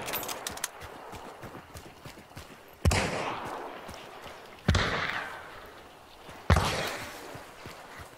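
Gunshots in the first-person shooter Hunt: Showdown, three loud, well-spaced heavy reports each trailing off in a long echoing decay, with faint rustling and clicking movement between them.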